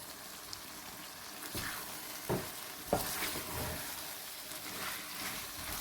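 Green chilies tossed and stirred into cauliflower and potatoes frying in a pan, a soft steady sizzle with a few scraping stir strokes, fairly quiet.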